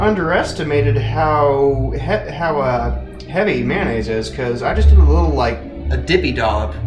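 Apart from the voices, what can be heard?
None of the usual background noises is heard.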